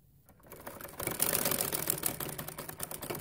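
A sewing machine stitches a linen kameez suit in quick, even mechanical bursts that start softly and grow louder after a short quiet opening, with no voices.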